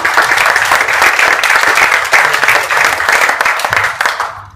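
A room of people applauds Steve at a cryptocurrency team event, with dense, loud clapping sustained for about four seconds before fading out at the end.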